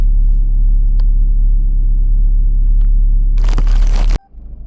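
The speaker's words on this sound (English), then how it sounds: "the car has been running for a while" A 1994 VW Golf 3 Variant idles with its engine running, a loud, steady low rumble throughout, then a brief harsher burst before the level suddenly drops near the end.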